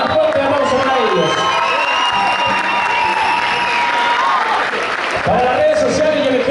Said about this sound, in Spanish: Así que más fuerte aplauso para ellos